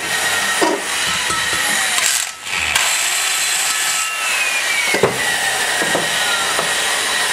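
A 30-degree seat cutter grinds lightly against the valve seat of a small-block Chevy cylinder head during a valve job. The rasping scrape is steady and close, broken by brief pauses and small knocks, with no talking.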